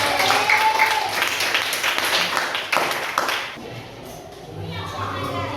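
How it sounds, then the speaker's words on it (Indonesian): Classmates applaud after a group presentation in a classroom, giving a dense burst of close clapping that fades out within a few seconds. Voices murmur under the applause and continue after it. "beri aplaus untuk teman-teman"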